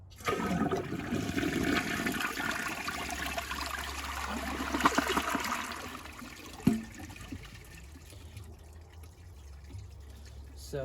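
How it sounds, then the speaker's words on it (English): Water rushes and gurgles as a Jacuzzi Perfecta toilet tank drains, the flow tapering off into quieter trickling with a single sharp knock partway through. "I'm gonna empty all the water out of the tank"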